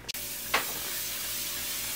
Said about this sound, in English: a cookie pan, and spray it.